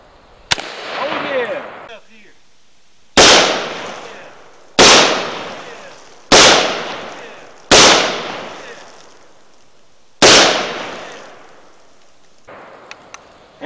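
A brand-new G-Force Arms AR-style semi-automatic 12 gauge shotgun fires six loud, close blasts at uneven intervals, each booming report trailing off into a long echo, with light handling noise at the end.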